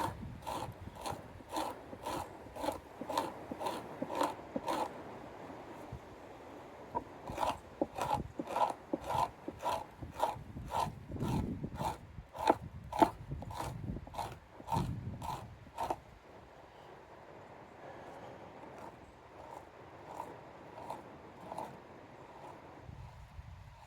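A knife scraping fat from an otter pelt during fleshing, a fast regular run of rasping strokes close up, pausing briefly and resuming, then fading to quieter rubbing near the end.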